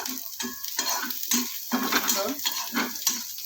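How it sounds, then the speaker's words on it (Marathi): Onions fry in a pan for khichdi, with a soft sizzle under repeated stirring and the clink of a utensil scraping the pan in an irregular rhythm, heard close. "मी आता इकडं कांदा फ्राय करते आहे"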